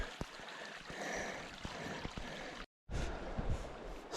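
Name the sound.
river water flowing, Connecticut River tributary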